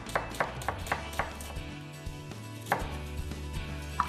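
A knife chops through a whole onion on a cutting board, with a run of sharp, close knocks that start in a quick rhythm, slow into scattered strikes and end with a final chop.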